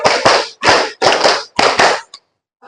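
A classroom of students performs a rhythmic 'tepuk 5' clapping pattern twice, crisp bursts of many hands in tight groups with short pauses between, ending with a single small clap before silence.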